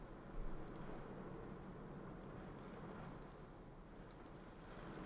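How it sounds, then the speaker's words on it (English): Steady rain pours down without pause, a dense broadband hiss filling the whole stretch at an even level, with no voices. "I can't imagine that Mike's not picking up the rain at this point."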